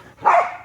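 A single dog bark rings out close by in a backyard during a frisbee game, one short bright yelp with no talk over it.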